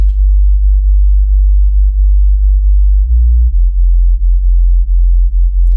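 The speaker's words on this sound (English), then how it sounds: "right now I just have a sine wave loaded up" A deep, steady sub-bass sine tone from a synthesizer hums continuously, smooth and pure, with slight pulsing in level.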